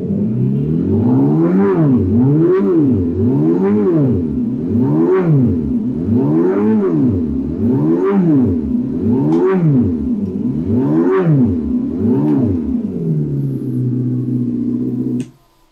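A Fiido electric scooter plays a simulated engine sound as its throttle is repeatedly twisted, producing about eight loud rising and falling revs in a steady rhythm before it cuts off abruptly at the end.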